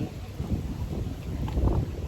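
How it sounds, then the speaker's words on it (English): Wind buffets an outdoor microphone in a low, rumbling, uneven gusting roar, steady and moderately loud for a couple of seconds with no voices. "It's a little bit windy."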